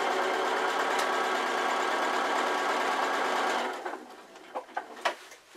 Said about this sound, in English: I like to tack on the sewing machine, tack or base, same thing, rather than leave pins in